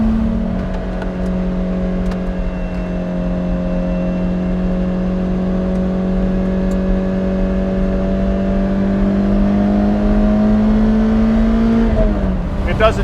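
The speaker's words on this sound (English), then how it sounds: "for driving, I've never found anything better than the Lotus Elise" Lotus Elise sports car cruising with a steady, sustained engine drone and tire hum from inside the cabin, holding a constant pitch before the revs shift briefly near the end.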